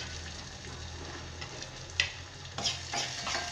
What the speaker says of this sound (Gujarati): લસણના પીસ કરેલા છે તે એડ કરીશું અને આદું પણ એડ કરી દઈશું અને આને સતળાવા દઈશું